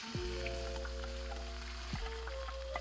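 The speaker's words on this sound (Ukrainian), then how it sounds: "Зараз додаємо цибулю. І обжарюємо її." Chopped onion frying in lard in a pot over an open fire for bograch, a soft steady sizzle with faint pops, heard close and continuous under low electrical hum, with no talking.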